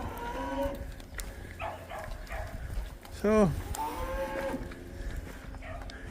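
Cattle moo repeatedly around a barn, low drawn-out calls with one louder nearby moo from a heifer, while a person speaks briefly amid rustling background noise.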